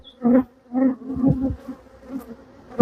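Honey bees buzz loudly and close during a hive inspection, the hum swelling and fading in uneven bursts as bees fly past, with no talk.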